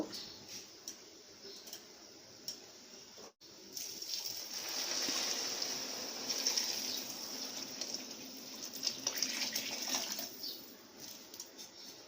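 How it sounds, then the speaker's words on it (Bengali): Hot water is poured into a pot of Bangladeshi plain pulao rice, giving a steady broad hiss and gush that swells in the middle and runs on for several seconds, fairly close and alone without talk. "এখন আমি এখানে গরম পানিটা দিয়ে দিব।"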